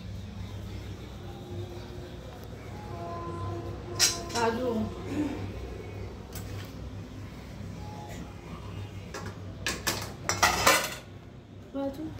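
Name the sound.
pasta being drained into a colander in a pot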